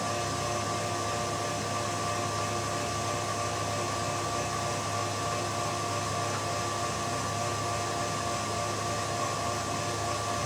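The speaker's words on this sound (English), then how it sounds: "I think my mixer's slowing down." A stand mixer runs continuously with a steady motor drone and whir, loud and even throughout, with no clear change in speed.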